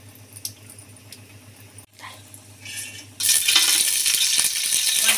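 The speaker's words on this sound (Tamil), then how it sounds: "பட்டை, லவங்கம், ஏலக்காய் இப்படி பொரியுது பாருங்கள்" Cinnamon, cloves and cardamom fry in hot ghee for ghee rice, starting with quiet stirring and light clinks, then a loud, steady sizzle that surges in over the final two seconds.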